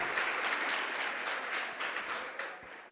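A church congregation claps together in steady, dense applause lasting a few seconds at moderate loudness, with no voices on top.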